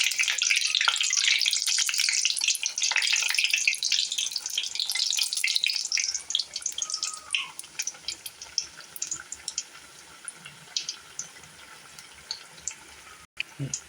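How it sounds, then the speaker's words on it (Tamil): Onion bread deep-frying in oil over low heat, a steady bright sizzle that is loud for the first six seconds, then thins into scattered crackles and pops. "கம்மியான சூட்டிலே வச்சு பொரிச்சு எடுக்கலாம்."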